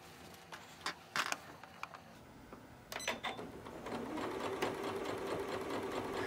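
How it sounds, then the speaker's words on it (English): Sewing machine stitching a Christmas stocking. A few scattered clicks come first, then the machine settles into a steady, fairly faint mechanical whir. "And then we're going to start sewing."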